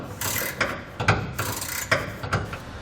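A ratcheting wrench tightens the underbed hardware of a B and W Companion 5th wheel trailer hitch, giving several rhythmic rasping strokes of clicks in a row, close and fairly loud, with no talking.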